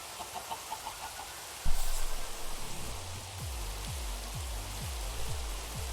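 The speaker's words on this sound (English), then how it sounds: "It's raining!" Rain falls steadily in a Minecraft modpack, a soft continuous hiss with a sudden louder onset partway through, while a repeating low mechanical thump pulses beneath it.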